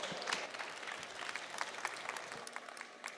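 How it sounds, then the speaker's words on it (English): Moderate applause for a panel at a fabricators' industry forum, a busy patter of many hands clapping, fairly distant and steady for a few seconds. "Round of applause for our panelists."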